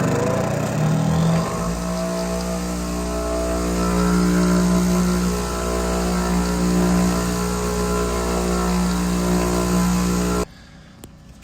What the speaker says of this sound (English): Got a bench grinder here. And turn the button on the back side.